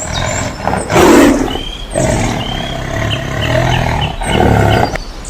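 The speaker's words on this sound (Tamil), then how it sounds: "பிறகு அந்த சிங்கம் கத்த ஆரம்பிச்சிருச்சு" A lion gives several loud, close roars in succession, deep rumbling bursts with brief pauses between them, used as a sound effect in a Tamil moral story about a trapped lion.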